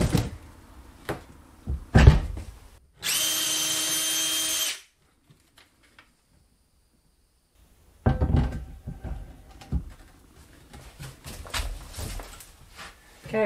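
A power drill bores holes during a vintage-style home renovation, one loud sustained burst of drilling about two seconds long, set among knocks, handling clatter and silence.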